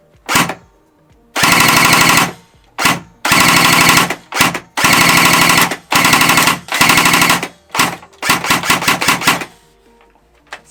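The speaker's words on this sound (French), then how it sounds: "Si je continue à tirer sur la queue de détente, je vais avoir du full." Steyr AUG A2 airsoft rifle firing full-auto bursts, a close, loud mechanical chatter in several strings of about a second each, separated by short pauses and single shots.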